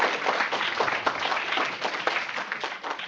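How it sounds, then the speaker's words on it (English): Applause from a group of students and hosts at a STEM education program event, a steady patter of many hands clapping, moderately distant and continuous for a few seconds without talk. "let's give them a round of applause"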